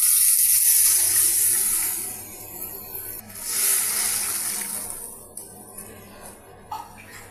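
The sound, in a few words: water poured into fish curry masala in pan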